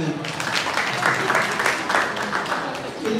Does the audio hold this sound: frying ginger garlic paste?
no